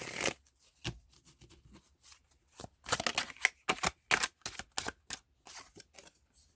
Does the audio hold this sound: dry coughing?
no